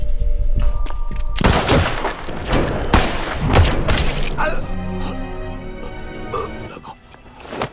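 Gunfire in a film shootout between gangsters in an Asian drug-trade crime story, with dense bursts of shots, crashes and impacts layered with music and dialogue.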